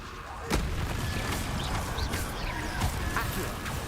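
In the video game Hogwarts Legacy, the Confringo spell sets off a rapid series of sharp, booming blasts like artillery fire amid continuous battle noise.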